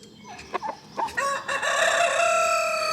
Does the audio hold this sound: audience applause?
no